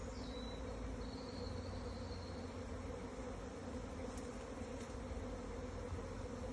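Honeybee swarm pouring out of a hive entrance, a steady, faint buzzing hum from many bees that continues unbroken, with a brief thin whine early on.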